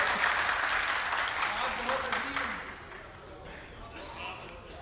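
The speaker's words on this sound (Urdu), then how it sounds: "آپ لوگ تالیاں بجا کے بتائیں" Applause from an audience at an Urdu literary conference session, a dense broadband patter of clapping that is loud at first and then thins and fades over the last seconds.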